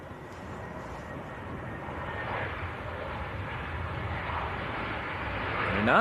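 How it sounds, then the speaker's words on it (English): A Wizz Air Airbus A321 airliner at Leeds Bradford Airport gives off a steady, distant roar of jet engines that slowly grows louder. "Here we go, Wizz Air A321."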